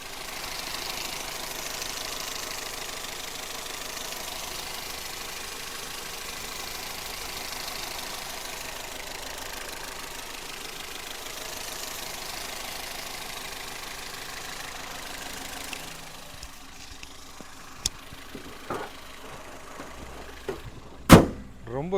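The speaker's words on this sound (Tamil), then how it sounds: "இப்போ வண்டியோட இன்ஜின் சவுண்டு எப்படி இருக்குன்றதை மைக்கை பக்கத்தில் வச்சு காட்டுறேன்" Petrol engine of a 2012 Toyota Etios Liva VX idling steadily with the microphone held close, a smooth even hum, ending with a few sharp knocks or clicks.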